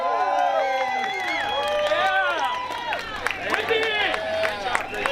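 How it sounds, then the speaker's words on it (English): A crowd at the Ride for Ronnie 2019 motorcycle event applauds and cheers for Wendy Dio, a steady dense wash of clapping with whoops and shouts layered through it. "Give her a round of applause."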